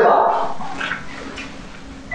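A dog gives a short bark followed by fainter whimpering yips, close at first and then quieter, with some talk mixed in.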